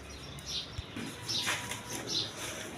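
Pair of high-flying Giribaz pigeons giving soft, low coos and faint chirps, a few separate calls with a brief wing flutter, close by against a quiet background.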